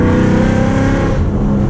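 A full-bolt-on Mustang GT roars loudly up close, its engine note climbing and shifting as it pulls hard through the gears, a continuous rich rumble with no talk over it.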